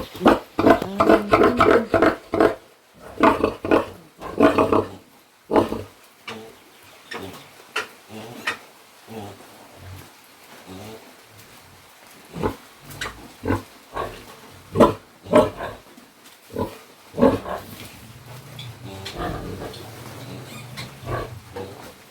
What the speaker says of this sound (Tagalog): Ang baboy guys